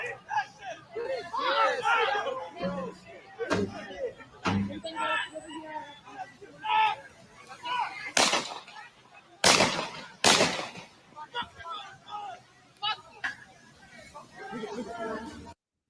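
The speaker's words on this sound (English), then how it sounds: "And there's more shots at the bearcat." Rifle shots ring out at a Bearcat armored vehicle during street unrest, several sharp loud cracks spaced apart and rising over a crowd's hubbub, shouting and nearby talk.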